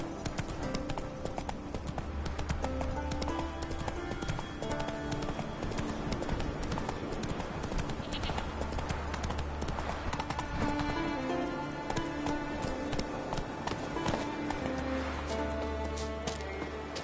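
Hooves of Roach, a horse in the video game Witcher 3, clip-clop in a fast, steady galloping rhythm throughout, close and continuous, over a full bed of game music and ambient noise.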